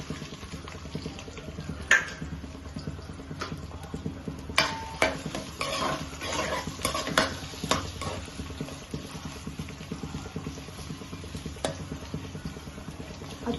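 Finely chopped onions sizzle in a pan for egg biryani, a constant soft frying hiss with scraping stirs and light clinks of a spoon against the pan, close by.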